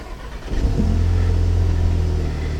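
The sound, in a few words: Audi TT engine starting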